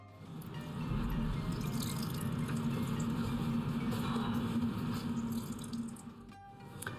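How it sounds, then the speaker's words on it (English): Liquid draining from salted cucumber being squeezed for tzatziki, a steady close trickling and dripping into a container that swells after a second, holds evenly, then tapers off near the end. "we're going to squeeze out the excess liquid and then put it into our yogurt"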